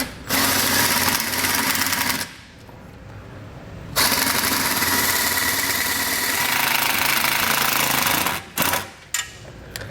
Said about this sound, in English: to run the self-tapping screw in